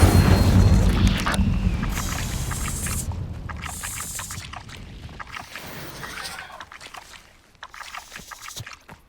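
Fiery whooshing burst from an Incendio fire spell in Hogwarts Legacy, loud and roaring at first, then fading into crackling flames and scattered game effects.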